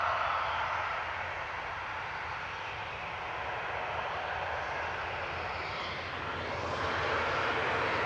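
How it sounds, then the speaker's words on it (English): EasyJet airliner GUZLX departing Manchester Airport as flight 715 to the Isle of Man, a steady, loud jet roar that holds for the whole stretch with a slight swell near the end and no voices. "EasyJet 715 to the Isle of Man. That's GUZLX departing."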